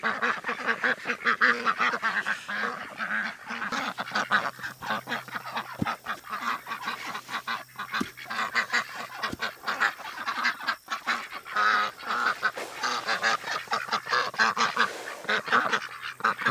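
Backyard ducks quacking and honking constantly at close range while waiting for their feed, a noisy, overlapping flock chorus with no talk.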